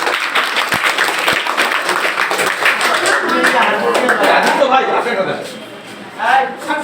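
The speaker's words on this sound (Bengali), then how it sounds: "সবার জন্য একটা হাততালি দাও" A group of students claps together in a room, a dense patter of hand claps holding steady and then thinning out, with voices talking over it near the end.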